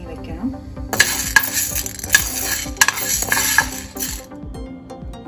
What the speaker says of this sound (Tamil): இந்த பச்சை பயிரை இந்த மாதிரி ஒரு பேனில் போட்டு லேசாக ரோஸ்ட் பண்ணி எடுக்கணும்.